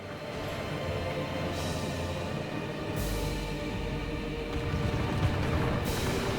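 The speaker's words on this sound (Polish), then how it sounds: "muszkiety cały czas słychać odgłosy wystrzałów" Dense, continuous video-game battle noise with repeated bursts of distant musket volleys rolling over one another, steady and loud throughout with no voices.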